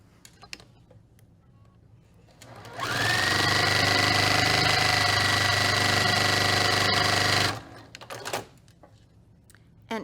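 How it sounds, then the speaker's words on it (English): A sewing machine stitches a quarter-inch seam on quilt fabric: after a few light handling clicks, a steady, loud motor whir runs continuously for several seconds, then stops, followed by soft fabric handling sounds. "So I'm gonna just sew this way."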